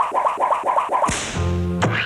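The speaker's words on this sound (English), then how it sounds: "the crack of the whip is the tip breaking the sound barrier" A sharp, loud whip crack bursts out after a run of softer rhythmic swishing, followed by a ringing tail and a second snap near the end.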